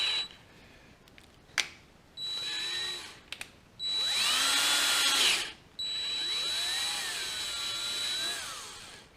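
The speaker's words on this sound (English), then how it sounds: "So the next thing is to just drill and tap for the next larger size." A power drill bores out a hole for tapping to a larger 5/16 bolt during aftercooler servicing on a Marine Cummins 6CTA8.3 engine, heard as a few short whirring runs and then two longer sustained bursts, close and loud.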